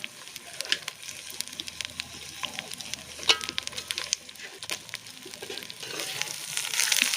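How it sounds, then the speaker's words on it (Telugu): Country chicken fries in oil with turmeric, green chillies, ginger and garlic, sizzling loudly and steadily while being stirred, with scraping strokes and a rising hiss toward the end. "చికెన్ వేసుకున్న తర్వాత ఇలా మనం మంచిగా ఒకసారి బాగా కలుపుకోవాలి."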